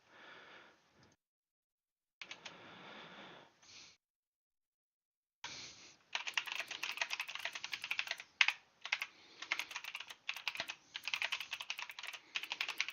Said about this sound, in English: I often forget that it has the type clicking sound